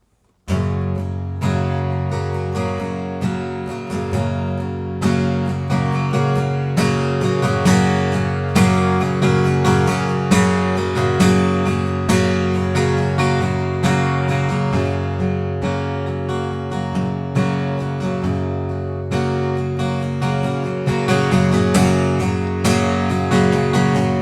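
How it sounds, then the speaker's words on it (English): An acoustic guitar strummed in a simple steady pattern, close and continuous, with the strokes swelling from soft to louder and more forceful; no voices. "I'm just going to do a nice simple strumming pattern here."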